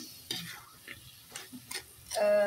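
Fried jengkol is stirred in a pan with a spatula, giving sparse, faint scrapes and taps spread unevenly over a couple of seconds, ending with a brief voice-like tone.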